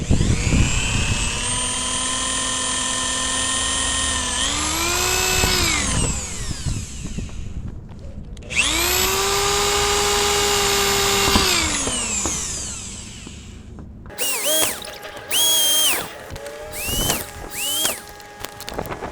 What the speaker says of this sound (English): So we're gonna push this up and start drilling the holes.